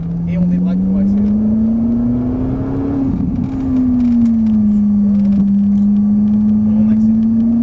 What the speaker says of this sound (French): Et on débraque pour accélérer.